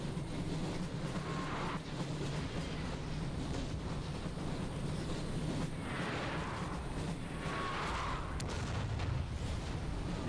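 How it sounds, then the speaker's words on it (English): Cannon artillery in a Napoleon: Total War battle rumbles as dense, continuous booming and distant volleys, a steady roar with several heavier swells, no voices over it. "while I basically sit here and listen to the cannons."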